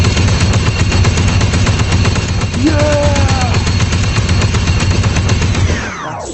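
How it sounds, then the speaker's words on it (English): Z6 rotary cannon from a Star Wars VR game mod firing a loud, continuous rapid stream of shots for about six seconds, with a brief shout partway through before the fire cuts off at the end. "I want to take a look at the Z6 rotary cannon with the new firing mechanics."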